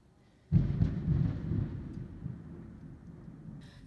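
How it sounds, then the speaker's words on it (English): A thunderclap during a storm breaks in abruptly after a quiet start, a loud low rumble that rolls on and slowly fades over several seconds, with no voices. "like storming and thunder"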